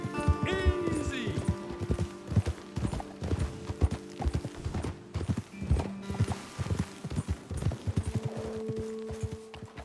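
Horses' hooves clip-clop steadily in Red Dead Redemption 2, a close, rhythmic run of hoofbeats with a brief whinny near the start and a voice speaking over the riding.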